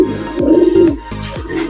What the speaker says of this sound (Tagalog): Babarakuan na sila mga kalapatid